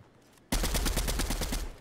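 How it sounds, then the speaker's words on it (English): Gunfire in the Fortnite video game aimed at a jump pad. A loud rapid burst of automatic shots, about a dozen in quick rhythm, starts suddenly after a short quiet gap. "I'm just shooting down the fucking jump pad so no one can use it"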